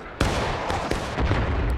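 Musket fire in the Civil War game War of Rights, with several sharp reports at irregular intervals, the first and loudest near and the rest spread over a dense, continuous battlefield din.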